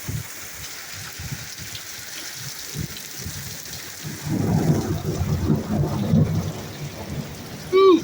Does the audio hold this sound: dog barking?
no